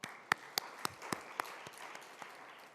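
During a Wednesday church service, a few worshippers give scattered applause: a handful of sharp, separate claps spaced irregularly, the first ones crisp and close, then thinning out and growing fainter.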